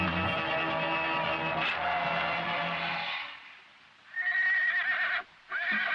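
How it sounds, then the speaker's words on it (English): A horse neighs loudly in a film scene, a long shrill whinny that fades, then a second high neigh follows after a brief lull, near and dominant over a faint background. "Ooh, his son's horse."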